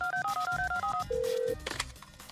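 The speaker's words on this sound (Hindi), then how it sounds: "शोमू का दोस्त शोमू के बाप को फोन करता है" A quick run of beeping telephone dial tones followed by a single sustained ringing tone as a friend calls Shomu's father, set against a faint background.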